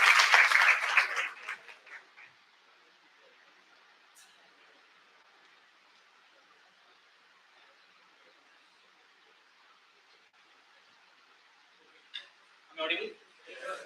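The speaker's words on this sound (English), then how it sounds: "Can we have a huge round of applause?" Audience applause in a seminar hall, loud clapping at the start that fades out within a couple of seconds, followed by quiet room tone and a few faint claps and thumps near the end.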